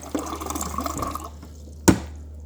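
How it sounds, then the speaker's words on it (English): Water and trapped air sputtering through a water filter, a close gurgling trickle ending in one sharp burst of spitting water. "It's going to hit some more air pockets until there's water inside that filter."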